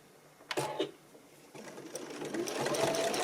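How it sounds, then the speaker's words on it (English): A sewing machine stitches diagonally off the corner of a flanged quilt binding, beginning with a few clicks of the presser foot and needle, then running up to a steady close hum with no talking. "I'm going to turn and I'm going to sew right off my corner"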